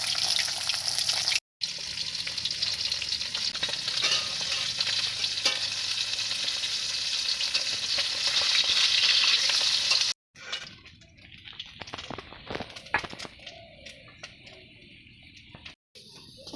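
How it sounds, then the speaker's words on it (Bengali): Eggplant frying in a pan gives a loud, dense sizzle for about ten seconds, then drops to a quieter crackle with scattered stirring scrapes and clicks. "বেগুনটা হালকা করে ভেজে নিচ্ছি"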